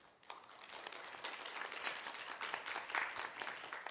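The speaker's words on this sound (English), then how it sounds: "With a big round of applause, please welcome her." At a security forum, an audience claps to welcome a speaker to the stage, applause swelling from a quiet start into a steady, moderately distant round that continues throughout.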